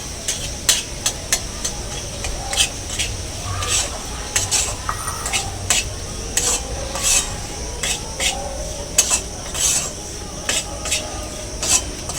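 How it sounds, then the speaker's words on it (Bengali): Semolina is stirred through melted ghee in a wok for sandesh. A spoon scrapes in repeated quick strokes with sharp clinks against the pan over a soft, steady background, and no one talks. "ঘিটা গলে গেছে, এবারে সুজিটা দিয়ে দিচ্ছি কড়াইতে।"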